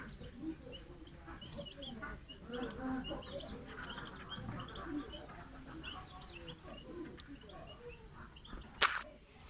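Young turkey chicks chirping in a small group, soft scattered peeps and chirps continuing throughout, faint and close, with a brief sharp knock near the end.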